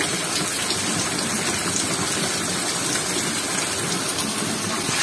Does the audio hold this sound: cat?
no